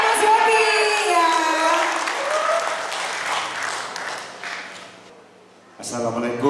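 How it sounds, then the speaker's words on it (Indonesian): Applause at a Democratic Party iftar gathering, loud crowd clapping mixed with chanting and cheering voices, dropping briefly before voices rise again. "Tepuk tangan buat Mas Yopi ya."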